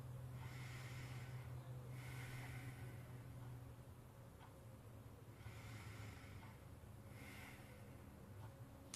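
Slow, deep breaths drawn during a posture exercise, each inhale and exhale a soft airy rush repeating every couple of seconds, faint over a steady background hum.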